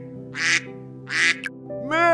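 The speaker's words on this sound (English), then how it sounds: "Duck." A duck quacks in three short bursts, fairly close and clear, followed by a rising tonal call at the end, over a steady low hum of background music.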